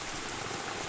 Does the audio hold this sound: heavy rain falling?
yes